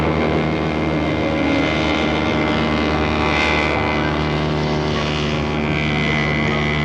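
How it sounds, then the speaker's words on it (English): Hydroplane racing boat engines roar loud and continuous on the water off the Isle of Man in 1959, a dense, sustained buzzing drone with no speech over it. "the sound of hydroplane engines."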